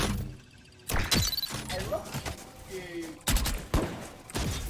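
Gunfire in Valorant, Indonesian match: loud sharp shot bursts around the one-second mark and again after three seconds, separated by busier game effects, with a voice talking in between.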